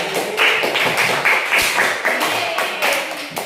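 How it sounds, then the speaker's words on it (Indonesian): Applause for a student presentation group in a classroom lesson, a steady stretch of fairly loud, dense clapping from a crowd of students lasting a few seconds, heard with no talking. "Oke, nggak ada makanya kita berikan aplaus"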